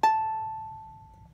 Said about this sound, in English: you just pluck that one string. And that's the very first note.